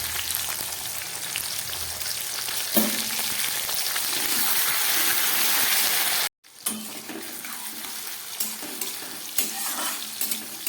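Halved tomato and green peas fry in a pan with a loud, hissing sizzle that drops out briefly, then returns with softer crackles and occasional stirring clatter.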